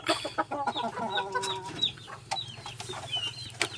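Chickens with chicks cluck softly close by, with high peeping cheeps scattered over a low steady hum.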